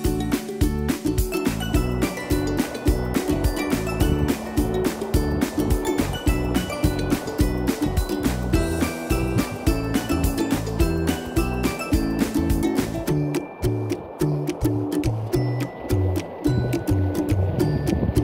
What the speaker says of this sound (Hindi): ये कल कल बहती हुई चिनाब नदी